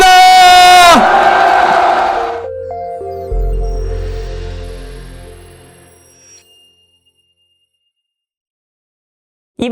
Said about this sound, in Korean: 두 분을 향해 큰 박수 부탁드립니다.